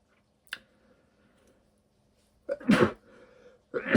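A close sneeze bursts out, loud and breathy, followed by a second forceful one after a short pause in an otherwise quiet room.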